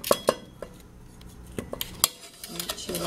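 A utensil scrapes and clinks against a pot as leftover garlic is cleared out, giving sharp, irregular metallic knocks and scrapes, close by with no talk.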